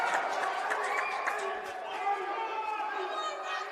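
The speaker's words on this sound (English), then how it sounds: "Crowd gets up for this one." Steady crowd noise fills the stands at a Jersey Roughnecks vs Jersey Bearcats football game, a continuous loud roar of many voices with scattered shouts rising and holding without a break.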